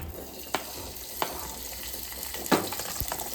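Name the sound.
chopped green chillies frying in oil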